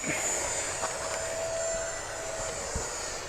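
An FMS Super EZ RC model airplane flies over a field with a new runway, its small electric motor a steady faint whine at a distance over outdoor ambience.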